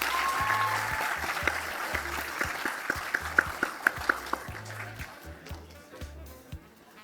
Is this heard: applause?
yes